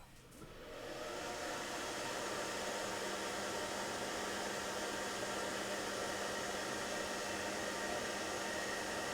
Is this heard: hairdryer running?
yes